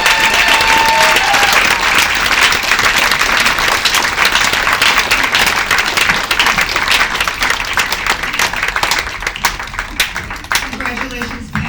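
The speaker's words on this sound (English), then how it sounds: "give her a round of applause as well" An audience at an award ceremony for women gives a loud, dense round of applause that carries on steadily for about twelve seconds and thins slightly toward the end.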